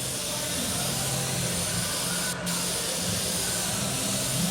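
An airbrush sprays paint in a steady, broad hiss around an outside edge, continuous and close, with one very brief break partway through.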